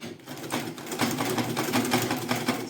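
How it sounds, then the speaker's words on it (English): A sewing machine stitches stiff fabric for an autogele head tie, a steady fast mechanical whirring run that holds loud and close without a break, no voices over it. "start sewing"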